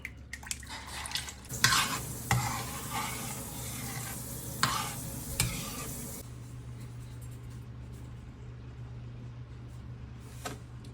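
Coconut milk is stirred into a cooking pot with ginger for ginataang hito, giving close scraping and sloshing stir strokes for several seconds before settling into a quieter simmering hiss with an occasional clink.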